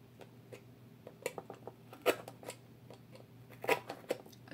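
Scissors cut a small slit in paper while making a cross-shaped piggy bank, a close series of crisp, irregular snips and crunches with a couple of louder cuts, heard without talk.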